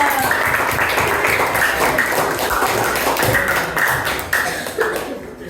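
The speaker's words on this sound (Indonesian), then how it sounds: "Kasih tepuk tangan buat kita." Clapping from a classroom group of teachers-in-training after a practice session, a dense steady patter of hands with some talk mixed in, fading slightly toward the end.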